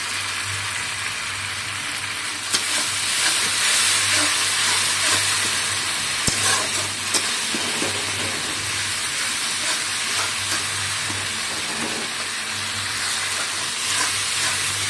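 Spiced curry masala for an egg and potato curry sizzles steadily in oil in a pan, a dense, continuous frying hiss with no voices throughout.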